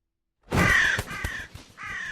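A crow caws loudly and close in a few harsh, rasping calls after a brief silence, used as a jump scare effect.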